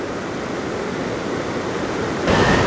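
Rapids on the James River rush in a loud, steady broadband roar close by, swelling slightly louder at the end.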